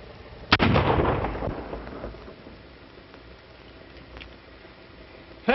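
A single loud gunshot with a long decaying boom, followed by a few fainter distant pops and the start of another at the end, in an old 1933 western film soundtrack with background hiss.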